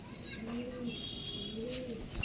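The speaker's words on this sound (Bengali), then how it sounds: "এগুলো পশ্চিমে পায়রা।" Paschime pigeons cooing close by, soft low wavering coos repeating over a quiet background, ending with a brief rustle.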